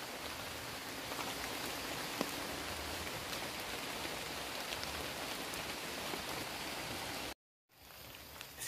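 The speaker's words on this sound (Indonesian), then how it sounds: "kondisi hujan" Steady rain falling on Christmas Day 2022, a dense, even hiss that holds unbroken at constant strength, then cuts out for a moment before resuming more softly near the end.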